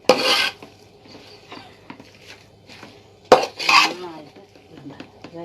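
Chicken in gravy being stirred in a pan, with two bursts of metal spoon scraping and clinking against the pan, close up, plus lighter rubbing sounds between them.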